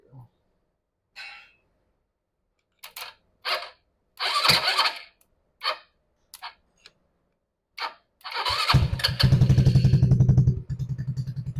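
An RPS ATV150 sport engine, cranked by shorting its starter solenoid, fires and settles into a loud, steady idle after several seconds of clicks, clatter and bursts of handling noise.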